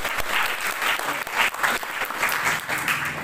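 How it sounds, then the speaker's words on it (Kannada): An audience at a talk on folk literature breaks into steady, dense applause, many hands clapping together near and loud for the whole stretch. "ಒಂದು ಚಪ್ಪಾಳೆ ಹೊಡಿಬೋದು ಅವರಿಗೆ, ಜನಪದರಿಗೆ"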